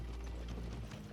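Horse hooves clip-clop steadily in Kingdom Come: Deliverance II, a continuous rhythmic clatter over a low rumbling bed, moderately loud with no talking.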